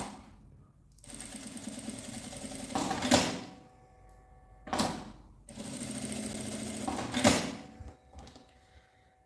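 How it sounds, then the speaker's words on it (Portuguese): A sewing machine stitches the side seam of a small cylindrical fabric pouch, running in two long bursts of rapid mechanical whirring with brief pauses and clicks between them, close and clear with no talk. "Vou passar uma costurinha na lateral de cá e outra do outro lado."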